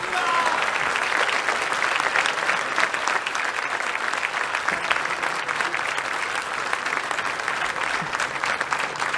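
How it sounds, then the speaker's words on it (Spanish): An audience at the Córdoba commerce exchange bursts into loud, sustained applause after President Javier Milei's speech, dense clapping filling the whole stretch without letup. "Agradecemos y despedimos con este fuerte aplauso"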